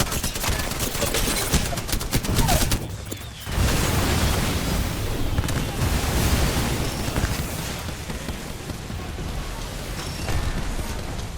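Grenade explosions boom amid continuous rapid gunfire in the video game Apex Legends, forming a dense, loud barrage with a brief lull partway through.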